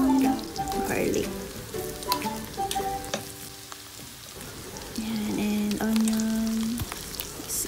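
Beef intestine sautéing with ginger and garlic in a hot pan, a steady sizzle and frying crackle with occasional stirring scrapes under background tones.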